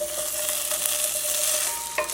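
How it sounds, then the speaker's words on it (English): Small cubes of paneer stir-fry in hot oil with a steady loud sizzle and crackle, a spatula clinking once near the end. "Just stir fry them just for a minute."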